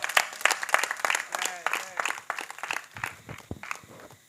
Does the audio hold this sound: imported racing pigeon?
no